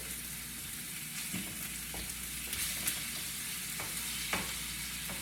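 Steak frying in butter over medium-high heat in a pan, giving a steady dense sizzle with a few sharper pops and crackles, close and continuous with no talking.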